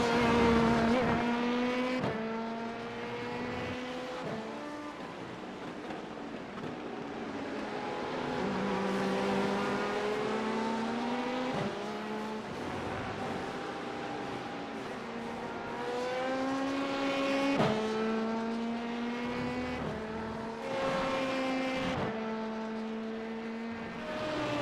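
LMP2 prototype race cars in the iRacing simulator during an IMSA race, with engines revving and whining up and down through gear changes in a steady, continuous drone, with several upshifts and downshifts and no talk over it.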